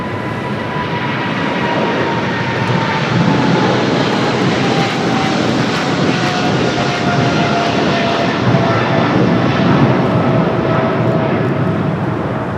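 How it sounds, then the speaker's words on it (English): A Korean Air Cargo Boeing 777 on its takeoff roll down runway 25 left at Los Angeles airport: a loud, sustained jet-engine roar that swells slightly as it goes, with a faint falling whine layered through it. "we got the Korean Air Cargo 777 rolling down to 25 left"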